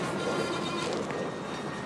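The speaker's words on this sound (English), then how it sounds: "he just put on some juice and he is pulling off the siding right now." CSX freight train Q410, led by locomotive 5426, pulls off a siding with a steady, loud rumble of railcars and wheels rolling continuously throughout, no voices present.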